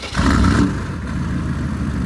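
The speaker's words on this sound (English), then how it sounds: "I'll give you guys an exhaust clip." A 6.5 diesel truck idles at the exhaust with a rough, rumbling, slightly clattery sound. There is a brief swell at the start, then a steady, loud idle up close.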